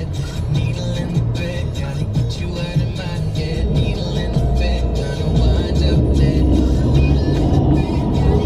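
A Fiat car drives in traffic, steady close engine and road noise with a gentle rise as it pulls away, continuous throughout.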